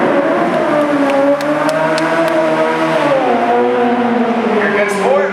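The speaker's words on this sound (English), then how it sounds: "there's a part of the movie that we use a remote car" A remote-controlled stunt car at a live extreme stunt show whines loudly, its engine pitch rising and falling as it accelerates and maneuvers. Crowd noise and voices sit faintly underneath.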